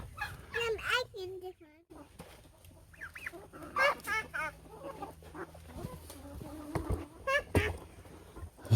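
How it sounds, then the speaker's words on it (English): Several chickens clucking and crowing nearby in short bursts, with buzzing insects and a person speaking now and then. "I let the kids feed the chickens."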